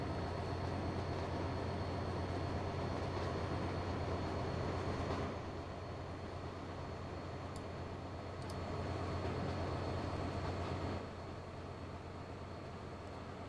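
A train runs along its track in the Transport Fever 2 video game, giving a steady, moderately quiet rolling rumble with a low hum and faint rhythmic clatter, heard alone.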